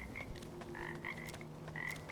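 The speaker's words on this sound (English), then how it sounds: "There's the frogs." Frogs croak in Wuchang: Fallen Feathers, a scatter of short, rhythmic chirping calls repeating over a quiet, low game ambience with no talking.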